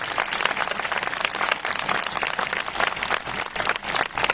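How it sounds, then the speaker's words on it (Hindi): A congregation at a Christian spiritual fellowship conference in Umarpata claps loudly in praise. Dense, sustained applause from many hands fills the hall at a steady, even level. "आए जोर से ताली बजाएं और परमेश्वर की स्तुति करें।"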